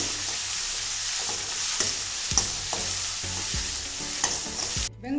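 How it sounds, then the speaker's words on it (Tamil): Sliced onions and crushed garlic frying in a pan while being stirred, a continuous crackling sizzle with repeated scraping strokes of a spoon against the pan, close and fairly quiet, no voices. "நல்லா மிக்ஸ் பண்ணுங்க. நல்லா ப்ரௌன் ஆகட்டும்."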